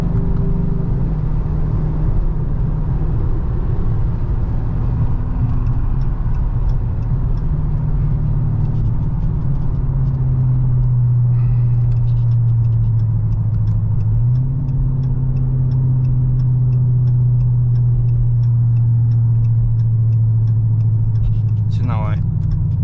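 A Dodge Charger R/T with a 5.7L V8 rumbles steadily at close range, its engine note stepping up in pitch partway through as it downshifts, with a person talking over it.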